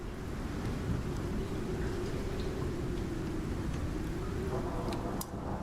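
Heavy rain and wind from a tier 5 storm in the survival game Icarus, battering a house with a steady, dense roar that holds throughout and has no clear thunderclap.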